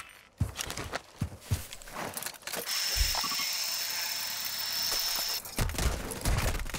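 Gunfire in the video game Warzone crackles in a burst of sharp shots, followed by a sustained mechanical whir and then more clattering, rattling impacts and quick footsteps.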